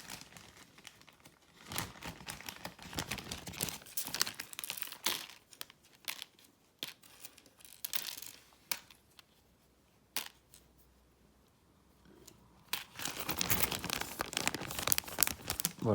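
Lego pieces tipped back into a plastic Ikea bag make close, crinkling plastic rustles and small clattering bursts, scattered irregularly with a longer loud stretch at the end.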